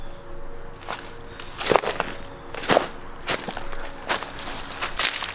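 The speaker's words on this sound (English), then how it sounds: "Sounds like someone's walking through leaves and sticks." Someone walking through dry leaves and sticks in a forest near an abandoned house, with several separate crunching steps and twig snaps, fairly close and irregular in rhythm, and no talking.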